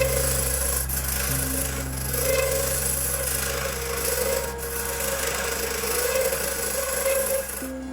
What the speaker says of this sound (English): start hollowing this out with some real easy motions back and forth